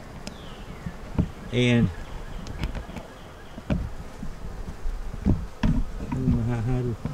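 Honeybees buzz around open hives stacked three deeps high during an inspection, a steady insect drone with a louder pass or two close by, while a person talks intermittently nearby.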